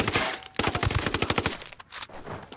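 Rapid automatic gunfire in Ghost Recon Wildlands shoots through a wall, a loud dense burst of shots followed by scattered, fading shots.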